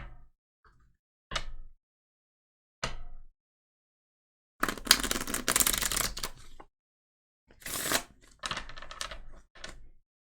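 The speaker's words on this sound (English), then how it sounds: "Okay, so let's go ahead and shuffle." Tarot cards are shuffled in short bursts: a few quick riffles, then a longer shuffle run and two more brief shuffles, close and crisp with silent gaps between.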